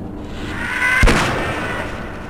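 A single sharp Colt pistol shot in Half-Life cracks out at a flying enemy, a short loud report with a brief tail over quiet game ambience.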